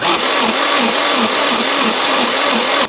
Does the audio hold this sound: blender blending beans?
yes